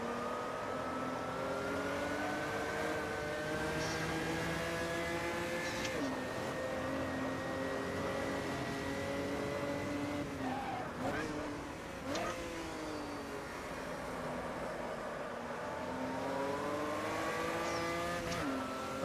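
An old school V8 race car engine rumbles and revs through gear changes, its pitch climbing and dropping as the car accelerates and brakes, with an occasional tire squeal and a commentator talking over it.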